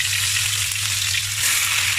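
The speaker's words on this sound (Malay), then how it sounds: "Kita goreng ayam dulu." Steady, loud sizzling of chicken frying in hot oil in a wok, a dense crackling hiss with a low hum underneath, continuing without pause.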